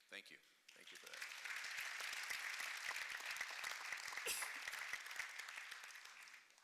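An audience at a panel discussion on race and sports claps steadily after a comment, a dense, even applause swelling in quickly and holding for several seconds before fading, fairly distant and without talk over it.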